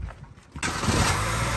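A Chevrolet Celta engine starts after a brief quiet pause, cranking and catching at once, then settling into a steady, close idle rumble.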